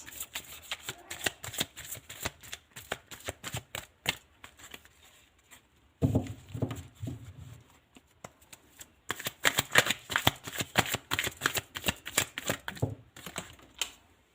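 Tarot cards are shuffled in rapid riffling bursts, crisp and close, with brief pauses and one soft bumping patch between runs.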